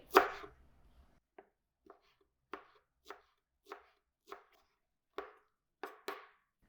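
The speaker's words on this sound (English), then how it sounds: "And we need to finely chop the dill." Fresh dill is chopped finely with a knife on a board: a louder first cut, then about ten sharp, crisp knocks at an uneven, unhurried pace, close by and separated by near silence.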